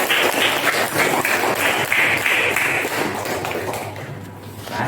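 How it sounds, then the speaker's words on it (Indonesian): Steady applause from a group of people fills the room, dense clapping throughout that gradually thins toward the end. "Tepuk tangan buat kita semua."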